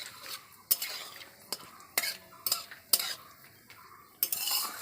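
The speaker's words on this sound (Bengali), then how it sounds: "তেজপাতা এবার আমি ভেজে নেবো এটাকে ভালো করে" Bay leaves being fried in oil in a pan while a spoon stirs, giving sharp metal clinks and scrapes against the pan over a faint, soft sizzle.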